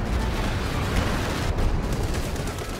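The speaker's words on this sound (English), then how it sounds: "Oh, good flame bombardments here." Continuous rumbling barrage of flame bombardment artillery in the World War II strategy game Company of Heroes 2, a dense, steady roar of blasts and crackle that stays loud throughout with no clear gaps.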